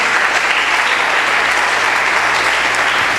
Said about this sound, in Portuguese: Bata as palmas